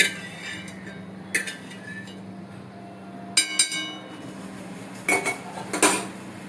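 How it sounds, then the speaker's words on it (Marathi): Oil being spread across a griddle pan before frying French toast: sparse clinks and scrapes of a utensil against metal in a few short bursts over a low steady hum, with no talk. "तेल सगळं तव्याला लावून घेतोय."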